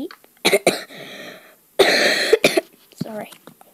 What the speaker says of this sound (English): Sorry, I've got a bit of a cough.